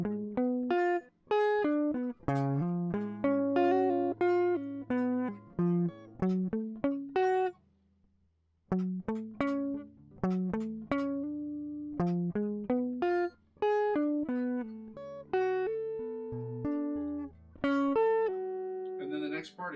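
Guitar playing a riff at a slow tempo, crisp plucked notes in a busy pattern with a short pause partway, close and clear without talk.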